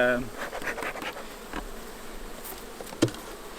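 Honey bees buzzing around an open hive during a spring beekeeping inspection, a soft steady drone of many insects close by, with faint handling scratches and a brief knock near the end.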